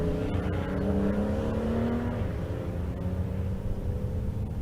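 Drag racing cars at Kearney, an 87 Buick Regal T-type and a diesel BMW, roar loudly and steadily down the strip, with engine tones rising through a sustained run.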